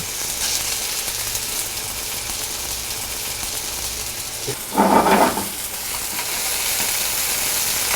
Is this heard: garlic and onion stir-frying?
yes